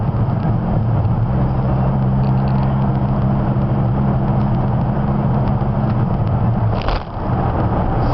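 A 2000 Dodge Viper with a six-speed manual runs on the road, its engine holding a steady, loud low drone with a brief dip near the end, as if during a shift.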